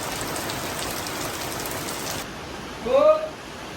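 Steady rain hisses loudly, then drops off abruptly, followed by a short burst of a voice near the end.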